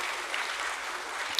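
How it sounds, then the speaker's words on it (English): Attendees at a stock exchange listing ceremony for Aeroflex Industries applaud in a steady, moderately loud wash of clapping from a sizeable crowd, with no talk over it. "So big round of applause"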